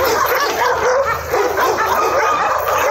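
Several dogs bark and yip continuously on a street in Surgut, loud and close, with overlapping bow-wows and whimpering throughout.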